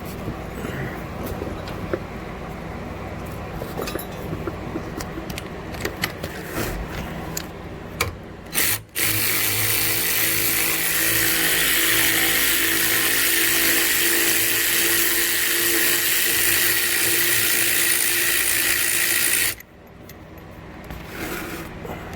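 A power tool spins out a bolt on the rear brake of a Honda Civic del Sol during a rear disc swap, a loud steady whirring grind that holds for about ten seconds before cutting off, with rubbing and clanking shop noise around it.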